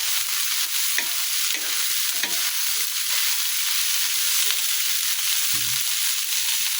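String beans (sitaw) cooking in a pan for adobong sitaw, giving a dense, continuous close-up sizzle with a few soft stirring knocks and no talking.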